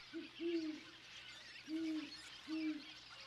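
A great horned owl hoots from cliffs, giving four deep, soft hoots in two pairs, with a faint, quiet background between them.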